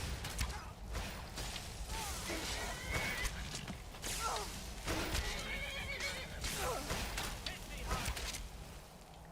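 A horse in Skyrim whinnies loudly several times amid clopping hooves and combat-like whooshes, with a voice speaking in the mix.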